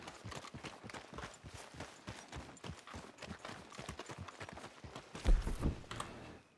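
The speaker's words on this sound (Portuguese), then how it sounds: "O meu pangaré é um cavalo amigo que anda comigo." Horse hooves clip-clop steadily in a western open-world game set in the town of Valentine, the horse following close behind, with a rapid, even rhythm of near taps and a brief louder thump near the end.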